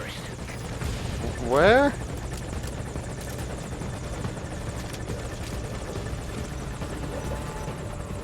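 Helicopter in Metal Gear Solid V: Ground Zeroes, a steady low rotor drone running throughout beneath game sounds and a short spoken line, with a brief whistling sweep near the start.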